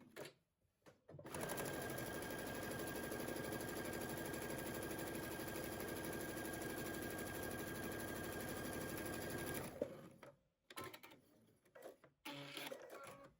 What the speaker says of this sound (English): sew a 1/4 inch seam allowance down the side here so that I can close that up